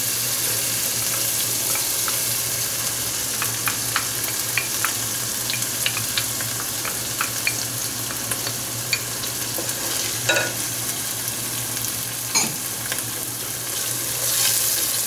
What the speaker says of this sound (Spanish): Es a este punto donde le vamos a echar el puré de tomate.